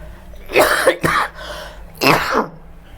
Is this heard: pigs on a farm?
no